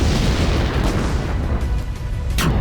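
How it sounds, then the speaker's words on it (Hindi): Two blasts at Jammu Air Force station at night, heard as a loud, continuous low boom and rumble filling the whole stretch, with a brief sharper burst near the end. "एक के बाद एक 2 धमाके से पूरा इलाका दहल उठा"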